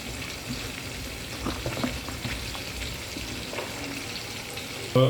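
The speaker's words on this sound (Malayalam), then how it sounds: "ഇപ്പോൾ ഒരു പാൻ ചൂടാക്കിയിട്ടുണ്ട്. എണ്ണ ഒഴിച്ചു." Oil heating in a hot frying pan, a steady soft sizzle and crackle close by, continuous and fairly quiet, with a brief louder clatter at the very end.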